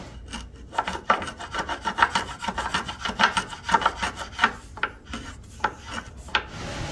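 Hand sanding of TimberMate wood filler on a repaired wooden hall tree makes quick rhythmic scratchy strokes, close and steady, with no talk.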